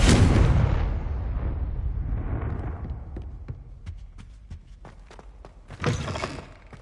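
A Confringo spell explodes in Hogwarts Legacy with a loud, broad blast that decays over a couple of seconds. Scattered crackles and debris impacts follow, then a second burst near the end.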